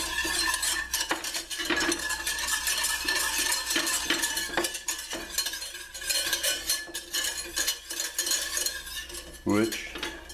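Batter mixed with warm beer in a bowl for banana beignets: steady clinking and scraping of a utensil against the bowl, close and busy throughout, with a brief louder rattle near the end.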